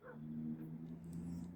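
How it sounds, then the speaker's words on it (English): A distant dog lets out a faint, drawn-out whine or howl, quiet and heard on its own for a moment at night. "I can hear a dog."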